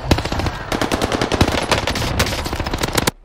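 Rapid automatic gunfire in the video game Warzone, a dense, loud stream of shots hammering continuously for about three seconds before cutting off abruptly.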